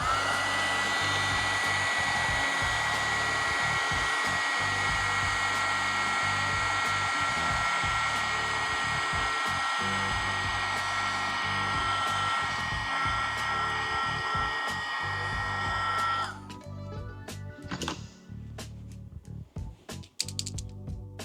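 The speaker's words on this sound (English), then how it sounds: "I'm going to hit that with a heat gun again" A heat gun blows steadily over a mixed media art journal page, a loud continuous whoosh lasting about sixteen seconds before it cuts off, followed by soft clicks and handling noises.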